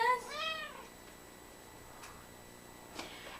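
A cat gives a clear, close meow at the start, then the room goes quiet apart from faint background ticks; no distinct purr stands out.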